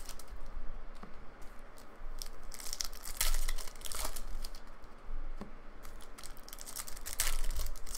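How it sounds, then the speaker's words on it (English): Topps Series 2 hobby trading card pack torn open by hand, with crinkly, papery rips and crumpling bursts repeating close up across several seconds. "I'll open it after I tear this first half open"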